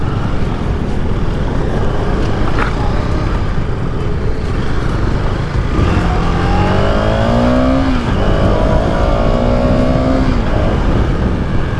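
A KTM Duke 250 BS4 motorcycle accelerating on a quiet road, its engine pitch climbing through gears in rising sweeps over steady loud engine and wind noise, close to the rider.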